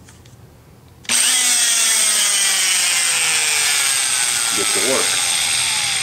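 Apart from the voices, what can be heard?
grinder opening up holes in an adapter plate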